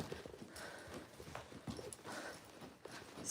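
Horses walk through a pasture, their hooves giving a soft, irregular clip-clop close by, with faint rustling and low background noise.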